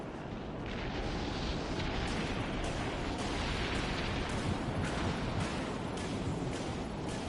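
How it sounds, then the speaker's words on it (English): Missiles launch from silos in a video game, a sustained loud roaring rush of noise with repeated thumping surges, close and continuous for several seconds. "All silos launch missiles."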